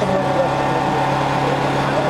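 A tractor engine runs steadily with a low, continuous drone at an outdoor kopkari gathering, close and fairly loud, with voices and crowd noise mixed over it.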